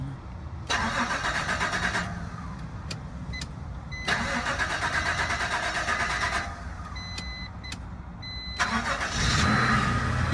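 An old project car's engine is cranked and fires up several times in a row, each burst running roughly for a second or two before cutting out, then finally catching and settling into a steady idle, heard close up with no speech.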